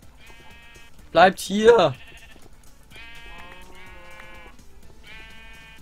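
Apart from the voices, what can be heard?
sheep bleating in Minecraft video game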